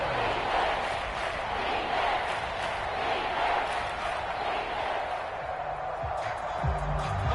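A simulated NFL stadium crowd at a Seahawks home game in a football video game roars in a loud, continuous wash of noise that stays steady throughout.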